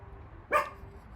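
A single short, distant-sounding bark from a small pet dog in an outdoor setting near water, rising briefly out of quiet background hum and fading quickly.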